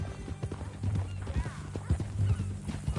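A horse in the Western game Red Dead Redemption clip-clops along with steady hoof beats and gives a low whinny, while men converse over the sound.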